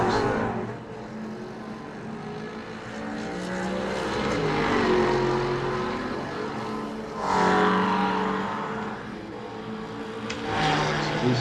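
Ferrari and Porsche race cars in a racing video game at Bathurst, engines droning in a continuous, loud, layered roar with rising and falling pitch as the cars rev and shift, swelling periodically as they accelerate.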